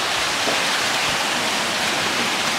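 Heavy rain falling on a goat farm, a dense, loud, continuous hiss with no breaks or variation, close and enveloping, with no voices.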